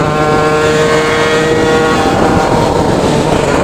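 A DT 86 motorcycle engine runs while being ridden during break-in, giving a loud, close, continuous droning roar with steady harmonics throughout and no talking.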